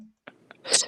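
A single sharp human sneeze bursts out near the end, loud and close, after a stretch of quiet with a few soft mouth and breath sounds.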